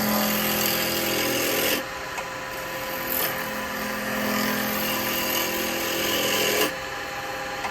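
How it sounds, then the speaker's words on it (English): Roughing gouge cutting into spinning yew wood on a lathe, a steady scraping, rasping hiss over the motor hum, changing in tone as the tool is pressed in and eased off, with no talking. "Come in with the roughing gouge."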